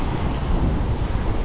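Steady wind rushes and buffets across a microphone at the seashore on a calm-sea evening, a dense continuous roar with low rumble and no pauses; loud and close, no voices.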